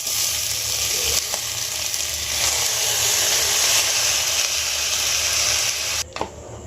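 Rice tossed into a hot pan with ghee-fried cashews and raisins for basanti pulao, a steady loud sizzle and frying hiss throughout, a brief scrape of stirring near the end.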